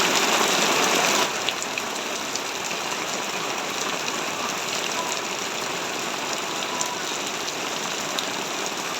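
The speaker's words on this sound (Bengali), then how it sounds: "বৃষ্টি দেখো কত বৃষ্টি হচ্ছে" Heavy rain pours steadily at night during a Navami-night Durga Puja outing, a dense unbroken hiss that is loudest in the first second and then continues without pause, with no talking.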